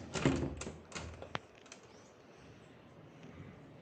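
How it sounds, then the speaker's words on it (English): A door opening in a home in the early morning: a few quiet clicks and clunks of the latch and handle, one sharp metallic tick, then a soft, faint hiss of outside air. "I'm just opening the door to get some fresh air from outside."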